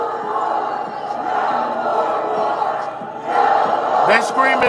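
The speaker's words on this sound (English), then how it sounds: "They screaming no more" A large protest crowd shouts together against war with Iran, a steady mass of voices that swells louder near the end with some individual yells on top.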